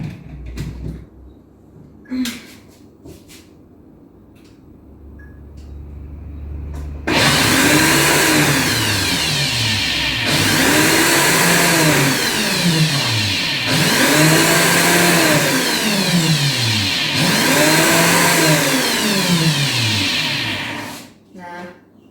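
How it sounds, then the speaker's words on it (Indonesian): A blender whirs loudly for several seconds in pulsing surges making green juice from garden produce, its motor pitch rising and dipping, after a few quieter clatters and bumps. "saya blender dulu setengah"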